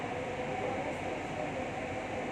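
A Kochi Metro train running between Vyttila and Aluva gives a steady, unbroken rumble and hum, heard from inside at an even, fairly loud level with no pauses.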